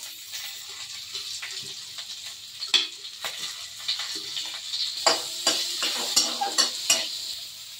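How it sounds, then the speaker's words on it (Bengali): Dried red chillies, green chillies, nigella seeds and garlic fry in ghee and oil in a pan, a soft, steady sizzle close by, broken by occasional clicks and scrapes of stirring, with no talk. "এই ঘি আর তেল যে দেওয়া ছিল, এর মধ্যেই আমি শুকনো লঙ্কা, কাঁচা লঙ্কা আর কালো জিরে দিয়ে দিলাম।"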